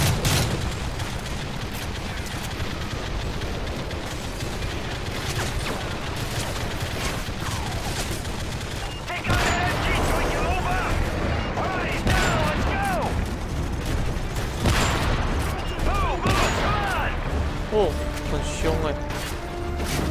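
Continuous bursts of machine gun fire and crashing impacts fill a Call of Duty: Modern Warfare battle scene in Paris, loud and dense throughout, with in-game voices shouting over the gunfire.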